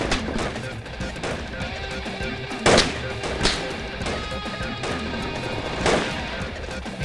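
Gunfire in the military video game Project Reality, set in the Korengal Valley, a few scattered sharp reports over a busy, noisy battlefield background, some louder and nearer than others, with indistinct voices mixed in.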